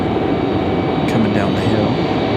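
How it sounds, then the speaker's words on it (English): A JetBlue Airbus A220 jet comes in to land at Raleigh-Durham airport, its engine a steady broadband roar held at constant loudness. Speech-like sounds seem to run beneath the noise. "the beautiful JetBlue A220"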